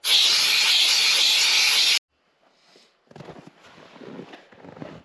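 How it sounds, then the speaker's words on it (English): Air rushes out of a tire through a valve-stem deflator fitted with its core assembly, a loud steady hiss for about two seconds that cuts off abruptly, followed by faint scraping and handling noises. "I'm actually going to take the core assembly out of this tire deflator and just screw it onto the valve stem."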